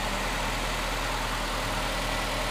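The 2.5-liter four-cylinder engine of a 2012 Nissan Altima 2.5 S coupe runs steadily at idle, a loud, close, continuous engine rumble with no talking.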